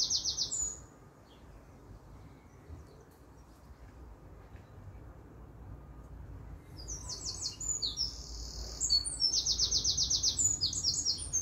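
Bright, warbling blackbird song phrases in bursts at the start and again toward the end, fairly clear over a quiet, low background hum.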